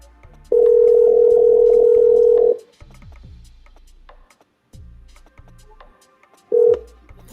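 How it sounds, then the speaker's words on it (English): An outgoing phone call rings on the line: a long steady electronic tone lasting about two seconds, a pause with faint clicks, then the start of a second ring, loud and close. "let me go to her right now. Hope she answers the phone."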